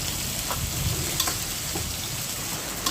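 Fish head curry with jackfruit seeds being sautéed in a pan, a steady low sizzle and crackle of frying with a few faint stirring clicks, close and continuous with no talk.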